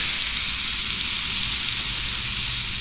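Smoked turkey searing over a campfire outdoors, a continuous loud crackling sizzle and hiss with no pauses.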